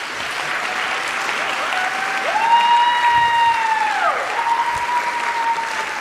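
Steady applause from an audience at a university photo night event, a broad wash of clapping with a few whoops, underneath a sustained sliding tone that rises and falls.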